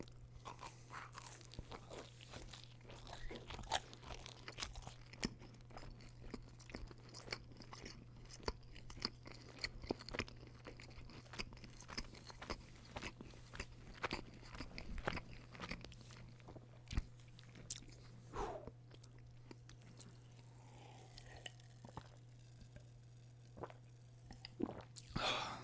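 Close, quiet crunching and chewing of Pizza Hut stuffed-crust pepperoni pizza, with steady soft bites and mouth sounds over a low constant hum.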